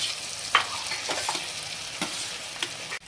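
Tomatoes frying with brinjal and onions as they are stirred in a pan, making a steady sizzle broken by several scraping stirs and a few light knocks of the spoon.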